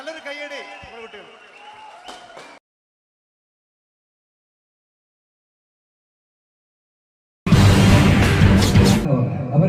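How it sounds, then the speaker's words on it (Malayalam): Audience applause for the children at a Malayalam folk-song stage show. A voice on a microphone comes first, then a pause, then a loud burst of clapping from the crowd. "നല്ലൊരു കയ്യടി നമ്മുടെ കുട്ടികൾ"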